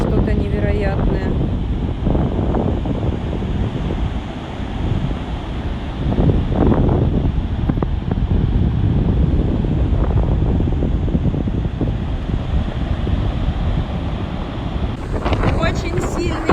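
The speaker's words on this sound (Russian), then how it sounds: "Очень сильный ветер, посмотрите." Very strong wind roars continuously into a phone microphone beside a road in Chechnya, producing loud, heavy buffeting with brief gusting surges and no clear speech.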